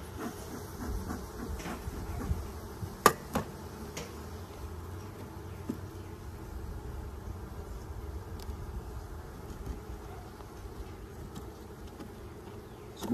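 Honeybees at an open hive during an early spring checkup drone in a steady, continuous buzz throughout, joined by a few brief clicks and knocks, with no talking.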